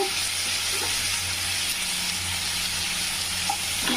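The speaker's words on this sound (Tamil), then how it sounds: "தக்காளி நல்லா வதங்கிடுச்சு" Tomatoes sauté with salt in a pan for a ridge gourd gravy, a loud continuous sizzle and hiss close by with a few faint spoon scrapes, no talking.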